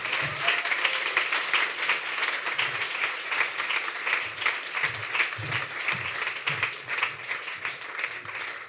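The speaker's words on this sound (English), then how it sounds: "Please join me in giving a very warm welcome to Mona Simpson and Evan Kleiman." Audience applause at a spring literary reading event, warmly welcoming two authors to the stage: dense, steady clapping from a sizable crowd that holds for the full stretch without fading.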